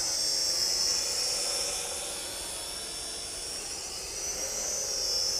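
A Visuo XS812 GPS drone with brushed motors flies outdoors in a light breeze, giving a steady high-pitched whirring buzz that swells and eases slightly as it moves, continuous and fairly close with no talking.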